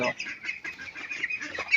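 Ducklings and chicks on a small home farm give off a steady run of high peeping and chirping calls, close and fairly loud, with no talk over them.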